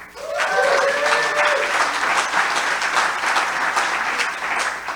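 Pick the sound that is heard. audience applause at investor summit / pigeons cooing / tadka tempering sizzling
audience applause at investor summit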